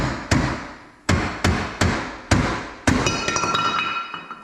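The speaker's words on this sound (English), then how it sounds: "So I grab my rubber mallet again, because I don't like hitting aluminum with steel." A rubber mallet strikes a wheel bearing tool on an aluminum hub of a Can-Am Maverick X3, six sharp, ringing metallic knocks at uneven intervals, close and loud, the last one leaving a lingering ring.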